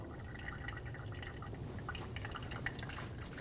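Brake fluid dripping from an open bleeder valve onto a garage floor during brake bleeding on a 2012-2022 Volkswagen Passat, heard as scattered small drips over a steady low background hum.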